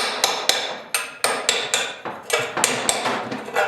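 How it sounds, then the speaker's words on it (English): Sharp metal impacts of a chisel chipping rust from the steel frame of a 1968 Chevy truck, about a dozen close, loud strikes in a loose uneven rhythm, each with a short ringing scrape, no talk. "find your chisel. You always get a little bit of rust buildup, so we're going to chip that away."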